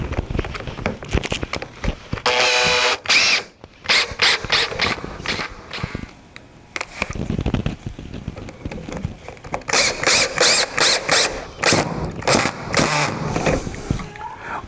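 A drill drives 1.5-inch pocket screws into wooden barrel stave easel legs in several short whirring bursts with clicks and handling knocks between them, close by.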